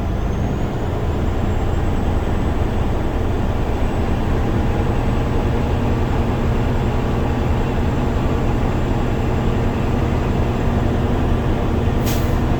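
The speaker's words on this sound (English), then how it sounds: "Now I'm going to build the full pressure, revving my engine between 12 and 1400." A truck engine revving steadily at 1200 to 1400 rpm to build full air brake pressure, a continuous loud close drone that runs unbroken throughout, with a brief hiss near the end.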